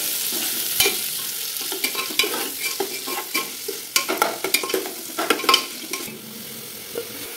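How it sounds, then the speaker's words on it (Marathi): Chopped onions and green chillies fry in oil for chicken biryani, a soft sizzle running under repeated scraping and tapping of a spatula against the pan, close and irregular. "हिरवी मिरची चिरलेले टाकायचे, त्याचबरोबर कांदे पण टाकायचे। कांदे फ्राय करून घ्यायचे।"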